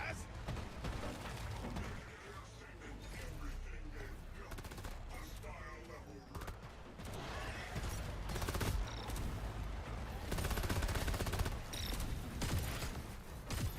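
Gunfire in Deep Rock Galactic, rapid bursts of shots crackling through a busy game mix, with a person talking over much of it.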